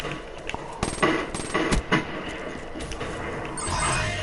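Sustained automatic fire from a light machine gun held down from a window in a first-person shooter, rapid dense bursts with sharp clattering shots and scattered mechanical clinks, loud and close.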